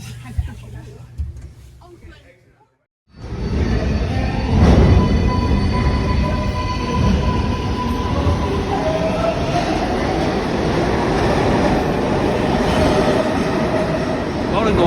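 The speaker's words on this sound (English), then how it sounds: "We've just got off the number 7 train at Grand Central now." A New York City subway train, the number 7, roars loudly through Grand Central station with rumbling wheels and a faint squeal, a steady dense din after a short quieter opening.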